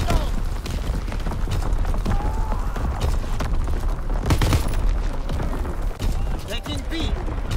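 Artillery barrage in a WW2 shooter game: a dense, continuous run of heavy booms and rapid impacts rumbling together, loud and sustained throughout.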